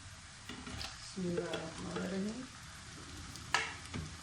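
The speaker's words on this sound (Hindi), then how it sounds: "अब हम इसमें चिकन डाल लेते हैं" Chicken pieces added to a pan of onions fried until light pink, for an Afghani chicken and potato dish; sizzling and frying swell up over the middle of the clip with a stirring scrape and a sharp clink near the end.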